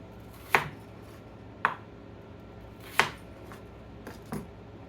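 A knife slicing food on a cutting board in a home kitchen, four distinct sharp chops spaced about a second apart, close and clear over a quiet background with no talking.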